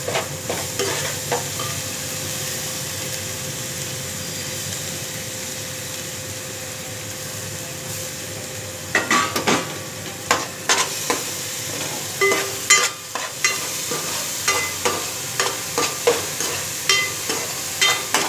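Ground leafy greens paste with coriander, fenugreek leaves and garlic frying in a pan for a fish stew, a steady sizzle with bursts of stirring and scraping clatter growing busier in the second half.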